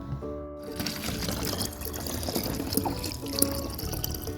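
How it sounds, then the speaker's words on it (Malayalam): Water poured steadily from a container onto salt to make a garden spray, giving a continuous close splashing trickle with no talk. "ഉപ്പ് എടുത്തിട്ടുണ്ട് ഇതിലേക്ക് നമുക്ക് വെള്ളം ഒഴിച്ചു കൊടുക്കാം"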